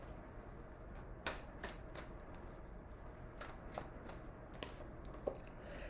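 Tarot cards are shuffled and drawn, giving soft papery riffles and a few sharper flicks and snaps as cards come off the deck, close up and quiet with no talking.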